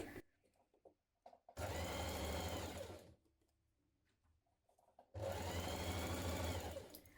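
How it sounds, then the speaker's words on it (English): Sewing machine stitching a double-folded hem along the bottom edge of a dress skirt, two loud sustained runs of about one and a half and two seconds with quiet handling pauses between. "Now hem the bottom of your skirt."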